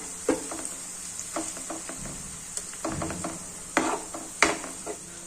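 Ginger, chilli and garlic paste sautéed and stirred in a pan for a cheese paneer dish, with a soft frying sizzle broken by several sharp clinks and scrapes of the spoon against the pan.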